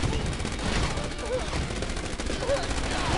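Dense, continuous gunfire crossfire from the mobile war strategy game This Means War!, with vehicle depot, rocket tower and sentry tower defenses, a steady loud clatter of rapid shots and distant bursts across the whole stretch.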